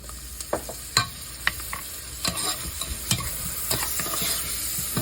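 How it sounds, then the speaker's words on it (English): About a tablespoon of minced garlic sizzling in a soup pot while a spoon stirs it, giving a steady close frying hiss broken by sharp clicks and scrapes of the utensil against the pot, with no one talking. "I'm gonna add about a tablespoon of garlic, minced garlic."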